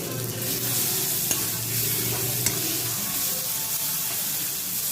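Sambar masala and spices fry in a pan with a steady close sizzle and a few light scrape knocks as they are stirred, no voices.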